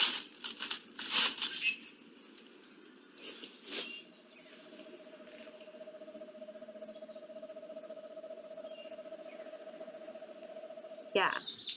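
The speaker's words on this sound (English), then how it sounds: "So pretty neat call there with the eastern screech owl, not a screech at all" An eastern screech owl gives a long, soft, steady trill lasting several seconds, faint and even, after some earlier rustling and handling noises.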